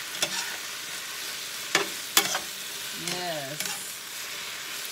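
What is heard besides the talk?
sautéing in a pan for chicken Alfredo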